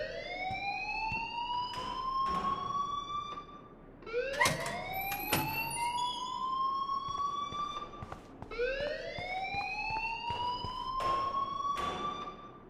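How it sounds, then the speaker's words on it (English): A video game alarm sounds steadily, with three long rising electronic siren sweeps overlaid by sharp, repeated clicks and beeps. It is fairly loud and continuous, and nobody speaks. "please turn off that alarm since that's your job"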